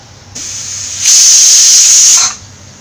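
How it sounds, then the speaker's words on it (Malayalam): A pressure cooker of beef whistles as it vents steam: a loud, close hiss builds up, peaks into a shrill steady jet for over a second, then cuts off. "5 വിസിലായിട്ടുണ്ട്. ഫ്ലെയിം ഓഫ് ചെയ്യാം."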